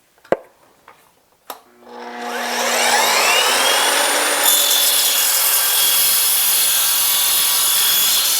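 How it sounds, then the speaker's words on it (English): Evolution sliding miter saw fitted with an aluminum-cutting blade slicing 1/8 inch aluminum angle: a few clicks and a motor start, then a loud, steady high metallic scream of the blade biting through metal, close up, with no talk. "Let's see how well this aluminum blade cuts aluminum."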